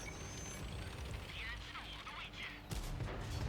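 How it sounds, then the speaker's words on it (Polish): A distant, muffled tank cannon boom from the video game World of Tanks (console), fired by a WZ 111 Qilin, thuds once near the end over a steady rumbling engine drone, with no speech. "gdzieś ten strzał poszedł obok, niestety"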